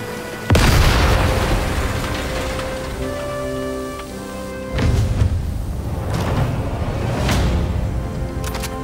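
An overloaded generator blows up inside a war factory in Sniper Elite 5: a sudden loud explosive boom, then a rumbling tail with mechanical whine. Further thudding blasts and crackling bursts follow over several seconds, with no talking.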